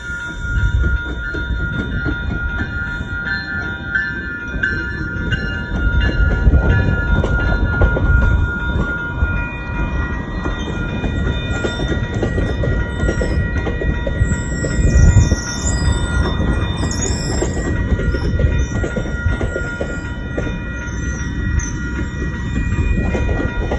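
A GO train pulled by two locomotives passes close by, giving a loud, steady rumble of wheels on rail with clickety-clack, some wheel squeal and a faint horn, with no talk.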